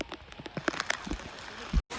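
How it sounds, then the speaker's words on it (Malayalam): Steady heavy rain patters and drips close by on a fort trekking trail, with a broad wash of falling water and a brief gap near the end. "നല്ല മഴയാണ്."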